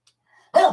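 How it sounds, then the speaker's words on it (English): A little dachshund lets out a single loud, close bark after a faint earlier sound, standing alone with no talk. "There's that little dachshund sitting there barking again."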